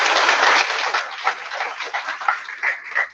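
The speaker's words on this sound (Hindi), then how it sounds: "जोरदार तालियां एक बार सर के लिए।" Audience applauding for a guest speaker at an event at a national institute for the visually impaired in Rajpur Road, a dense burst of clapping that starts strong and then thins into uneven, fading claps.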